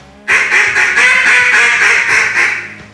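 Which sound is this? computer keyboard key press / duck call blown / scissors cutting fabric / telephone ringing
duck call blown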